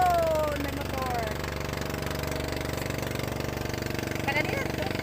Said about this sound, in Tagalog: may motor nga, may motor